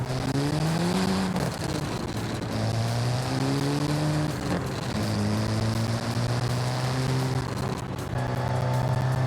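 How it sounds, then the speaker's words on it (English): A Mercedes 190E drives steadily, its engine droning in a low rising and falling pitch as it shifts through gears, close and continuous with road and wind noise underneath. "Today, we're driving my 190E to work."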